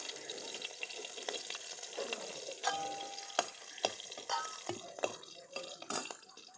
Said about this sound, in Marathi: तेल गरम झालं आहे या कापून घेतलेल्या मिरच्या टाकायच्या आहे